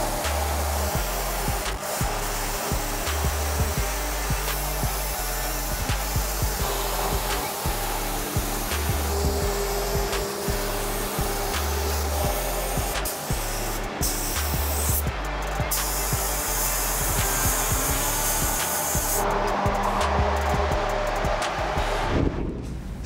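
Spray gun misting primer through a 2.0–2.5 mm tip onto a panel of an '85 Chevy K10 truck build, a steady loud hiss with airy compressor rush running continuously, broken by brief trigger pauses.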